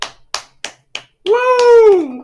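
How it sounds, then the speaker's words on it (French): Four sharp, slow hand claps ring out one by one, close and crisp with short gaps between them, then a long drawn-out cheering voice follows. "J'applaudissais ton discours."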